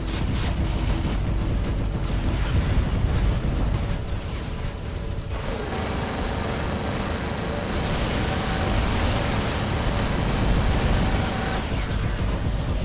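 In the PC game War Robots, a space shot fires off as a loud, sustained roar of blasting and rumbling game noise that shifts texture about midway, then carries on without a break.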